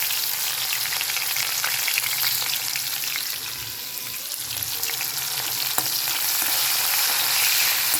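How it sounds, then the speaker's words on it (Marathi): Chopped onion frying in hot oil, cooked until lightly pink for an egg masala, gives a steady, dense sizzle that stays loud throughout, with no talking. "आपला हा जो कांदा आहे तो मी तेलात व्यवस्थित तळून घेते।"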